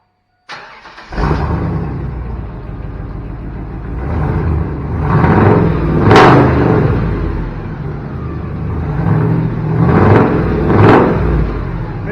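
A Chevy truck's 8.1-litre V8 fires up and then revs repeatedly through a loud, rumbling custom exhaust, with several sharp throttle blips rising above a deep idle.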